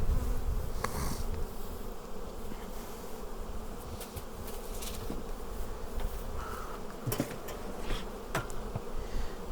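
Honey bees at a beehive in fall, a steady dense buzz of many bees close by with occasional individual insects droning past, continuous and alone without talk.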